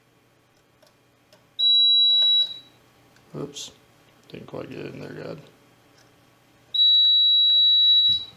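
Industrial control panel for a dual motor starter sounding its alarm: two loud, steady electronic beeps separated by a few seconds, with a brief spoken remark and clicking handling noises in between.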